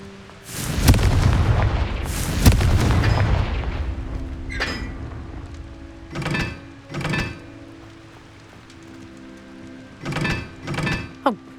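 Confringo blasting spells from Hogwarts Legacy explode as two heavy, loud booms, followed by several softer thudding impacts spaced apart.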